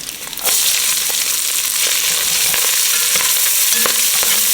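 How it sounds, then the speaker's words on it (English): Chopped onions hit a hot pan of rendered bacon and burst into a loud, steady sizzle that holds throughout, with a few scraping stirs, close and without talk. "So I'm going to go ahead and add my onions."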